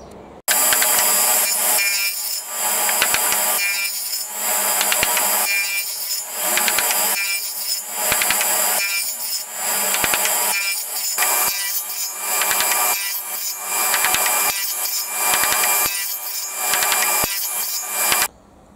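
Hand saw cutting notches into hardwood boards for an outdoor privacy screen, a steady close back-and-forth rasping in repeated bursts with short pauses between strokes, no talking.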